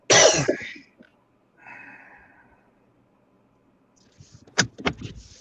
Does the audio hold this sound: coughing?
yes